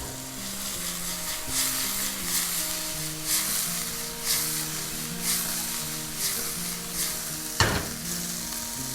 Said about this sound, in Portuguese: E vou dar uma salteada na frigideira.